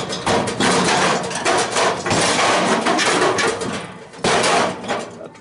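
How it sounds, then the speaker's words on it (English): An old Craftsman sawzall cuts through scrap metal, giving loud, rough reciprocating bursts with brief pauses between strokes, close up. "Brought the old Craftsman sawzall out for that thing."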